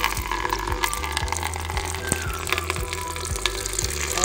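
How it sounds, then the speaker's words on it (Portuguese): Water pours from a bottle into a jug in a steady splashing stream, with rhythmic glugging pulses repeating several times a second alongside a bright, continuous rush. "Despejando da garrafa."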